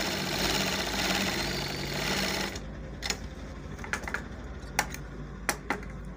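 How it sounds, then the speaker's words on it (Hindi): A large treadle-style sewing machine stitching a single layer of cloth: a steady, fast mechanical whirring chatter for a couple of seconds, then it stops, leaving quiet clicks and taps as it is adjusted. "अब सिलाई मारेंगे।"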